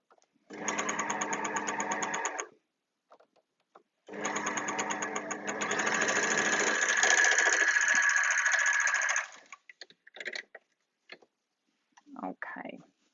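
An overlocker sewing machine test run: two steady, loud runs of fast rhythmic stitching, a short burst then a longer one, separated by a pause, followed by a few light clicks.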